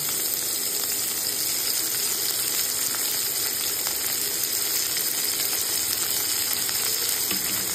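Onions frying in oil in a pan for crab curry, a steady close sizzle and crackle that holds evenly throughout with no talking.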